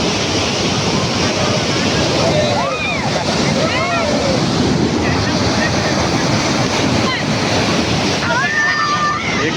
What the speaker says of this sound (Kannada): ಅದು ನೀರು